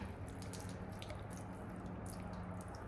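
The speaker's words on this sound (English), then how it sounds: "Letting all the water fall out without it touching the ground." Water from a van's water filter drains and drips steadily without reaching the ground, a continuous wet trickle with a low background hum throughout.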